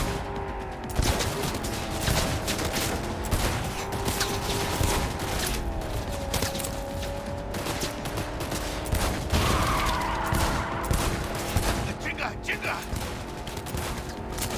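Dense, continuous gunfire from a Cyberpunk 2077 firefight on very hard difficulty, with rapid overlapping shots and game sound running steadily throughout, a voice briefly audible over the din.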